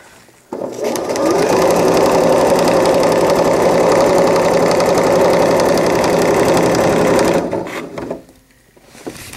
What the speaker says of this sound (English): pull nice and tight and sew your casing for your elastic